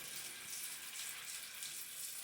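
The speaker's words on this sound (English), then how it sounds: "the first thing we do is wash our hands" Water runs from a tap while hands are washed at a kitchen sink, a steady soft hiss of flowing water, fairly faint and unbroken.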